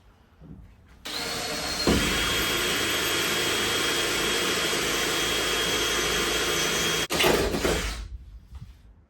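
A loud power drill whirs continuously for several seconds while drilling into a narrowboat's interior, starting abruptly, briefly pausing, then spinning up again before cutting off.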